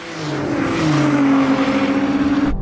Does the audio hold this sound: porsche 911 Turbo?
yes